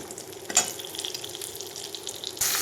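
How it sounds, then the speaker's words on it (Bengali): Eggplant frying in a little oil in a wok, a soft steady sizzle with a few clinks of a utensil and a brief louder burst near the end. "কড়াইতে একটু হালকা তেল দিয়ে আমি বেগুনগুলো ভেজে নেব"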